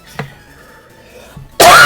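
A man coughs hard, with two short harsh coughs separated by a quiet pause, followed by a sudden loud burst of noise at the end.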